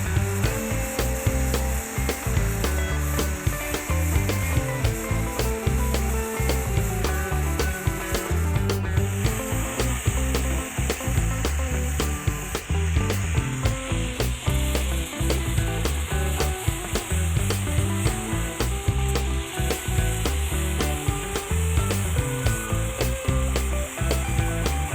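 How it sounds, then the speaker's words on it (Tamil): A machine sander grinds steadily across the body of a Mahindra Bolero during repainting, a continuous, close, loud abrasive rasp with a quick, rough rhythm that never stops. "மிஷின் போட்டு நல்லா மட்டம் தேய்க்கிறாரு பாருங்கள்"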